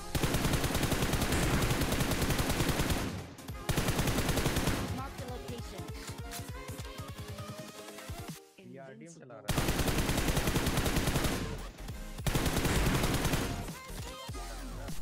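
Gunfire in the BGMI mobile battle royale game, in loud sustained bursts of rapid shots broken by brief lulls and one near-silent gap. Talking is mixed in with the shooting.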